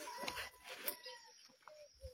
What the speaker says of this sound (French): Vous entendez le chant des oiseaux, vous entendez le cri des oiseaux, vous entendez?